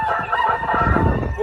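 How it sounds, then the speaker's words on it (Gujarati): A rooster crows nearby in the evening, one loud full crow with a few clucks mixed in against quiet rural background noise. "આપણે હમણાં કુકડો બોલે છે, કુકડો સંભળાવી દો તમને."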